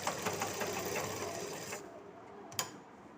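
A sewing machine rattles steadily as it stitches a salwar panel, then falls quiet, leaving a single sharp click near the end.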